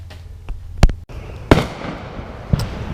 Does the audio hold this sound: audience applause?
no